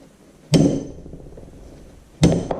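Two sharp, loud hammer blows strike a drift punch against a pin on the oil pump of an IHC Farmall Super MTA tractor, about two seconds apart, each with a brief metallic ring.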